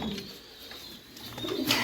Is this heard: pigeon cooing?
yes